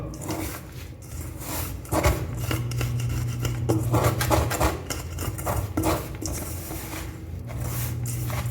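Wheat flour being mixed with oil in a bowl gives a steady run of scraping, clinking and squishing kitchen sounds, fairly close and continuous, with no clear talk over it.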